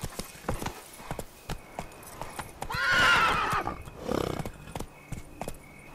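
Geralt's horse Roach from The Witcher 3 gallops with steady rhythmic hoofbeats, then lets out a loud, long whinny midway, followed by a shorter snort as the clip-clop carries on.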